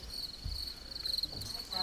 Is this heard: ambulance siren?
no